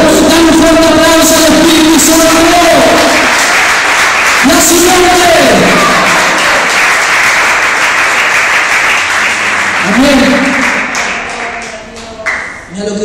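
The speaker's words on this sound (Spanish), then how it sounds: "Dale un fuerte aplauso al Espíritu Santo" A church congregation claps loudly and continuously for the Holy Spirit during a revival sermon. The applause is dense and close throughout, with voices and sustained tones over it, and it thins out near the end.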